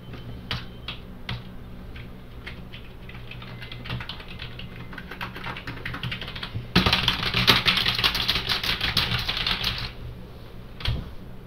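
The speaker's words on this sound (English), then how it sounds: "spamming keys" A computer keyboard is hammered with rapid, rattling key presses, clicking steadily and then breaking into a louder, denser flurry of keys before easing off, close and clear with no talking.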